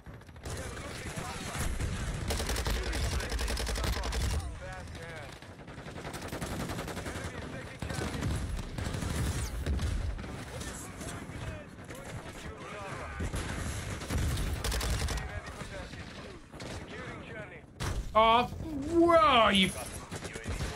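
Dense video-game gunfire, including shotgun blasts, forming a continuous loud barrage of overlapping shots and booms for the whole stretch, with brief lulls and sharper bursts near the end.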